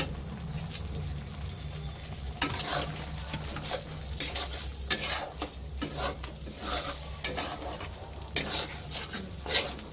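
A spoon stirs capsicum through a pure veg soyabean korma with a paste of cashew, almond, poppy seed and melon seed, scraping a pan in repeated close strokes over a low steady hiss of cooking.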